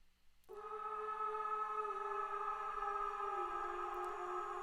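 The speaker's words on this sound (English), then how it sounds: "It's distorting the vocals going into the reverb signal" Vocals pushed through a saturation effect into a reverb produce a loud, eerie, sustained harmonic wash that swells in abruptly and holds steady, like a ghostly drone, with no plain speech.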